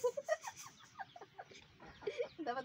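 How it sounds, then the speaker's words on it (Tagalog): A chicken clucks in a quick series of short calls, fairly close but quiet, with a few brief pauses between bursts. "Ang mayabang na manok nalaban sa paa."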